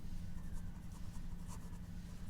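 Steady scratching of a pen or chalk writing by hand in a classroom lesson setting, continuous soft strokes over a hissy background, no talking.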